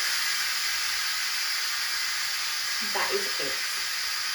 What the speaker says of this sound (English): This is called a quick release because we are manually releasing the pressure.